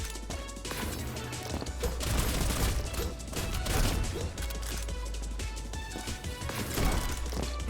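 Gunfire in a card-based video game demo as the player shoots cards, with a dense run of crashing, rapid-fire bursts over steady game music, loud and continuous throughout.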